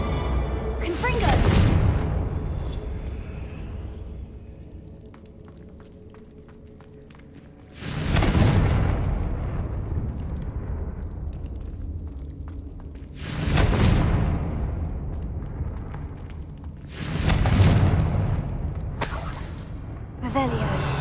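Four loud blasting-spell explosions from the Confringo curse in Hogwarts Legacy, each a sharp broadband burst with a rumbling tail, spaced several seconds apart over a low game ambience.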